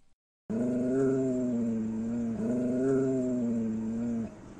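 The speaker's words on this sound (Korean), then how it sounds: "수진이 태훈을 소개하자마자 몽실이가 미친 듯이 으르렁거리기 시작한 것이에요" Mongsil, a household dog, growls fiercely in a living room at a stranger, the daughter's fiancé; two long, loud, sustained growls run almost unbroken with a brief catch between them.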